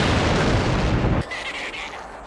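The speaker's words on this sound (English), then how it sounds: "their ship explodes to add a second explosion to the house" A spaceship blows up in the horror film Critters, adding to a house explosion; a loud, dense booming roar fills the first second before cutting to a quieter rumbling aftermath.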